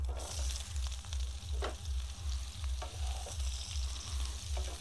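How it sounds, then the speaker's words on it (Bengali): Soybeans crackle and sizzle in hot oil, a continuous close frying hiss with a low rhythmic pulsing and a few scrapes. "সেদ্ধ করা সোয়াবিনগুলো এবার আমি কড়াইতে দিয়ে দেবো দিয়ে ভেজে নেব"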